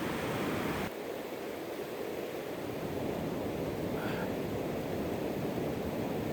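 A river flows nearby with a steady, broad, loud rushing that stays constant throughout.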